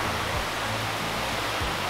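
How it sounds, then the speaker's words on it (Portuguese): A waterfall in an open valley inside a canyon gives a steady, soft, broadband rush of falling water, constant and moderately distant, with no voices. "Essa aqui atrás de mim é a cachoeira do Elias, né?"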